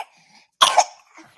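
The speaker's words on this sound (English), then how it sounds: "coughing on the mic" A man coughs loudly right into the microphone during a fantasy football talk show, one sharp burst of two or three coughs, close and clipped, followed by a faint throat sound.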